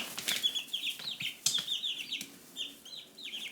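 Chickens cluck and chirp in quick overlapping bursts, with a few sharp flutters of wings mixed in, close by and fairly quiet.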